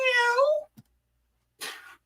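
A person's voice imitates a cat, with one drawn-out, wavering meow followed by a short pause and then a breathy, hissing tail.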